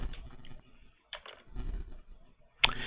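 Mouse clicks on a computer while opening an export to a spreadsheet: a few sharp, close clicks scattered among soft desk noises, quiet and alone.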